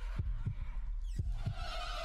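A game heartbeat thumps in paired lub-dub beats, two pairs spaced evenly, deep and close over a faint electronic hum.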